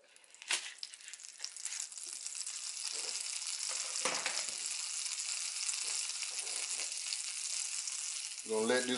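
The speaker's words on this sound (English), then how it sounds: "we got our skillet on medium-high heat. First thing we're gonna do is we're gonna put in 4 tablespoons of butter" Four tablespoons of butter melt in a skillet on medium-high heat, rising into a steady hissing sizzle after a sharp initial crackle, with a few scattered pops.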